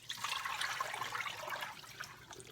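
Water poured out of a container after cleaning sweet potato tops in a home kitchen, a steady splashing, gurgling pour lasting a couple of seconds, close and fairly quiet, with no talk.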